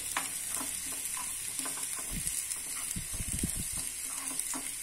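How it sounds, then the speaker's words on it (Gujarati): Green garlic, about two spoonfuls, sautéing in a hot pan gives a steady, close sizzle and crackle, with a few short scraping stir strokes in the middle and no talking. "જુઓ સરસ રીતે સંતળાય છે"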